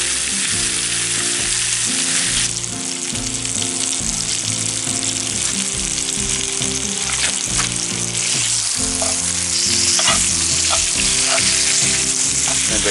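Bacon frying in a pan, sizzling loudly and steadily with crackling pops, joined partway through by a brighter hiss and occasional stirring clinks.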